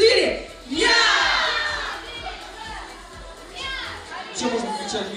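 A group of people at an award ceremony shout together in unison on a count, loud and close, with cheering and chatter continuing afterward.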